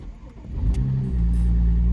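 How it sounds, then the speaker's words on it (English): A project car's exhaust revs up from a rough idle into a loud, sustained drone, the engine holding a steady growl close to the microphone with a brief chime over it. "I will give you guys a quick exhaust note"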